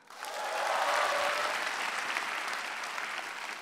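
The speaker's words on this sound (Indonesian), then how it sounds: "Tepuk tangan untuk empat besar" A stand-up comedy crowd breaks into dense, steady applause that swells quickly and holds for the whole stretch, close and uninterrupted by talk.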